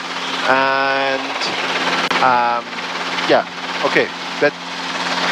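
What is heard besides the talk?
helicopter in flight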